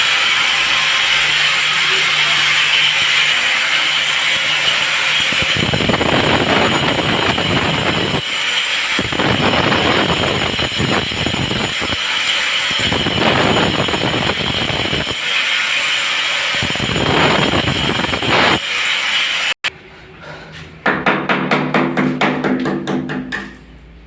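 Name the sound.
grinder cutting bathroom wall tiles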